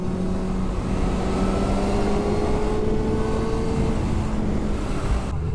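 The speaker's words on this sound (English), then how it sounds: "Such a smooth engine, such a smooth ride." A 2022 Honda CB1000R Black Edition roadster with a 1-litre, 143 hp engine runs smoothly while being ridden, giving a steady, close, continuous drone with a slight pitch rise and no talking.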